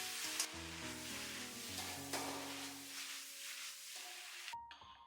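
Lotus root and pork with garlic sprouts sizzle steadily in a wok while being stir-fried, a continuous close frying hiss under faint background music that cuts off at the end.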